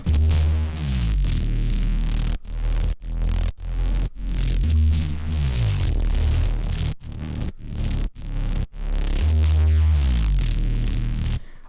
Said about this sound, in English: So let's play the Serum bass.